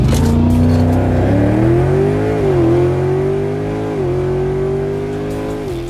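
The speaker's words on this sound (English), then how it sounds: "My TRX where it sits is 1200 horsepower. It does 0 to 100 in 3 seconds." A 1200 hp twin-charged Ram TRX pickup, a three-tonne truck, pulls hard with a loud, steady engine drone, its pitch climbing and dipping through gear changes while the tone sits close and continuous.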